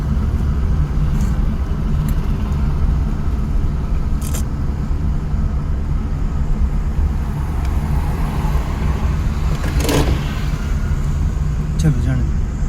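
A car engine rumbles low and steady during a driving lesson as the car rolls forward on its own. The drone is continuous with a few faint knocks, and muffled voices can be heard in the background.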